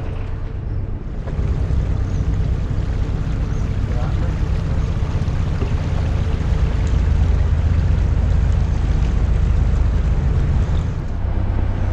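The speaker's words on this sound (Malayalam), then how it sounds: "നമ്മുടെ ഓപ്പോസിറ്റ് ഒരു ബോട്ട് വരുന്നുണ്ട് കേട്ടോ" A passenger boat motors across the water on a boating trip at Mullaperiyar, with a steady, close engine hum and rushing wind. The sound grows fuller after the first second, and people talk over it.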